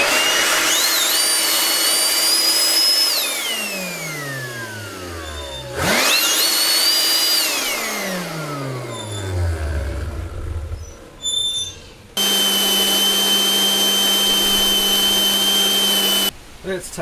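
Milwaukee M12 cordless leaf blower roaring loudly in several bursts, each winding down with a falling whine, followed by a steady high-pitched run near the end.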